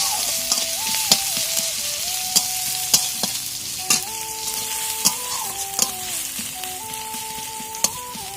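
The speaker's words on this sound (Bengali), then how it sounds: "দিয়ে একসাথে নাড়াচাড়া করে নেবো" A spatula scrapes and taps a pan every second or so while chopped onions and garlic sizzle steadily in oil, with faint music underneath.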